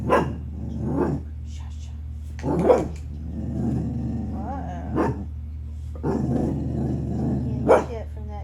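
A dog barks and growls in several sharp bursts spread across the clip, close and fairly loud, with a steady low hum underneath and a person speaking briefly between the barks.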